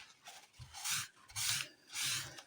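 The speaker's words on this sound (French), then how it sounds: "on vient découper son papier" Paper being cut for a scrapbooking card, heard as three separate rasping strokes about half a second long in an even rhythm, quiet and close with no voices.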